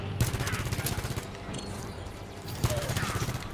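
Rapid automatic weapon fire in the video game Halo 5: Guardians, two sustained bursts of dense, rattling shots with a short gap between them, loud and continuous.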